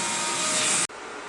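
Shop vacuum running loudly with a steady hiss while a CNC machine surfaces a wasteboard, cutting off abruptly then continuing at a lower, duller level.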